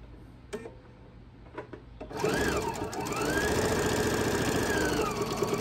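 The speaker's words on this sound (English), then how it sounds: "I do have my machine turned down for speed, so it's a little bit slower" A sewing machine stitches binding onto a quilt at turned-down speed, running steadily and close after a few short clicks, a sustained mechanical whir with a rising and falling motor tone.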